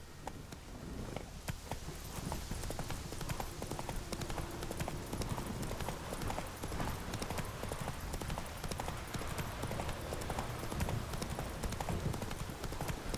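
Horse hooves clip-clop in a steady, rapid rhythm as a horse is ridden in the video game The Witcher 3, a continuous trotting patter that runs throughout at moderate, even volume.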